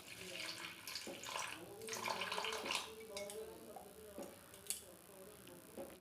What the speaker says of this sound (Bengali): এবার এর মধ্যে দিয়ে দেব সামান্য একটু জল।